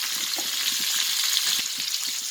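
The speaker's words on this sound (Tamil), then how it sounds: "சால மீன் ரோஸ்ட் பண்ணிகிட்ருக்கேன்" Chala sardines pan-roasting in a hot pan sizzle loudly, a continuous bright crackling hiss with small pops, close and unbroken throughout.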